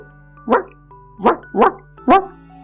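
A puppy barks four times in a steady series of sharp, close yaps, spaced about half a second to a second apart, with a faint steady hum behind them.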